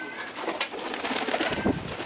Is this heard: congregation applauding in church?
no